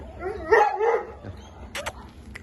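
A dog gives a short yelping bark up close, followed by quieter soft whines and a few faint clicks.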